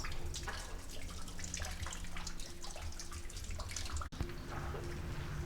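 Water drips and trickles continuously from cavern rocks onto a slick walkway nearby, with scattered droplets splashing over a steady wet patter in an echoing space.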